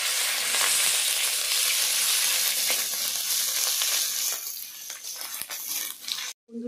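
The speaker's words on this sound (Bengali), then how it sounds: "ভালোভাবে ভেজে নেব" Chopped green chili and grated ginger fry in hot oil with a dense, loud sizzle and crackle, gradually easing and thinning toward the end as stirring sounds poke through.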